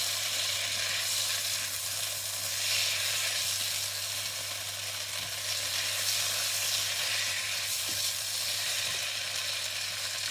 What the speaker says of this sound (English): Now keep going and stirring.